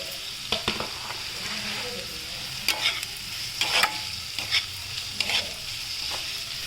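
Ginger sizzles in hot oil while being stirred for a hotel-style potato palya, with a continuous frying hiss and irregular scraping, clattering strokes of a spoon against the pan, close and without speech.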